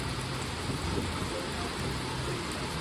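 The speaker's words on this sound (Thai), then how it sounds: "มีเสียงฟ้าด้วยครับ" Heavy rain pours in a constant dense hiss onto an elephant shelter, with a low rumbling undertone of thunder beneath it.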